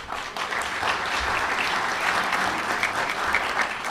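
A crowd applauds steadily at a National Press Club luncheon, a sustained wash of clapping that holds at an even level throughout.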